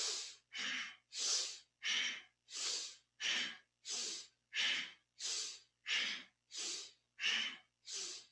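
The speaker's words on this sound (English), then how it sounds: "Deeper breath." Deep rhythmic breathing during a kundalini yoga kriya for the back, about thirteen strong, even breaths in quick succession, close and clear with near silence between them.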